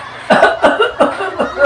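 Someone coughs four times in an even rhythm, each burst short and loud, close to the microphone with no words between them.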